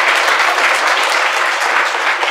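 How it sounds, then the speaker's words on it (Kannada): Loud, sustained applause from an audience at a meditation class, dense steady clapping filling the whole moment without any voices. "ಜೋರಾಗಿ ಚಪ್ಪಾಳೆ."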